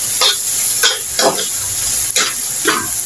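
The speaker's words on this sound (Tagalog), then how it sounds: "mantika, bawang sibuyas kamatis, pinagsabay-sabay ko na po. At inisa-gisa for 1 minute." Bitter gourd sautéing in oil with garlic, onion and tomato: a loud, constant sizzle close by, with a few spoon strokes scraping through it at irregular intervals and no talking.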